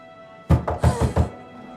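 A fist pounds on a door in a tense Turkish drama scene, giving five heavy, close thuds in a quick, uneven burst before the sound drops away.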